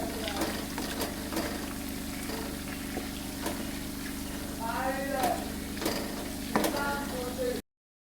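Chicken pieces frying in hot oil until brown, a steady low sizzle with occasional sharp clicks and scrapes of a utensil in the pan, with a voice speaking over it.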